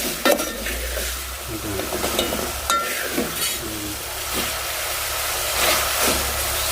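Spices frying in oil for a suran (elephant foot yam) curry are stirred in a pan, a continuous sizzle with scraping strokes and occasional metallic clinks, close and steady, with no speech.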